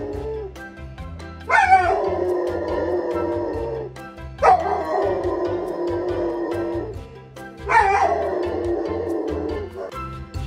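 A German Shepherd gives three separate bouts of barking and yipping, each opening with a sharp, loud bark and trailing off into whiny yelps. The bouts come roughly every three seconds, close by, with no talk.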